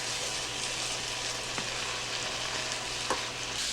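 Ginger and sugar are stirred in a frying pan, a steady soft sizzle with a couple of faint scraping touches of the utensil, close and quiet.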